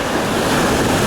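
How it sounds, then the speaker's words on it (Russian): Large ocean waves surge and break onto a beach, a loud, continuous wash of surf with wind noise across the microphone and no voices. "потому что пришла большая волна, очень большая волна"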